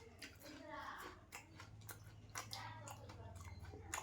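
Close, crunchy chewing of a fried fritter made from tilkor leaves coated in rice flour batter, with soft irregular bites and mouth sounds continuing steadily throughout.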